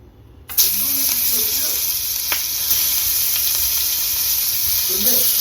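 Prawns hit hot oil in a small pan with a sudden loud sizzle that settles into a steady, close, crackling hiss, with a faint voice briefly in the background.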